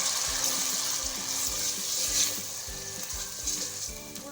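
Onion paste and ginger garlic paste sizzle and fry in hot oil while a spoon stirs them, scraping the pan in a steady, repeated rhythm. The sizzle stays soft and continuous and no one speaks.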